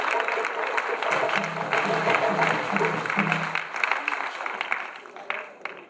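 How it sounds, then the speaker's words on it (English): Audience applause at an ECOWAS parliamentary seminar on illegal mining, a dense wash of many hands clapping throughout, with a voice talking underneath partway through. "I think I deserve big applause."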